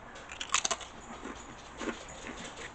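Someone bites into dark, over-baked potato crisps, giving a cluster of sharp close crunches followed by softer, irregular chewing crackles, with no talking.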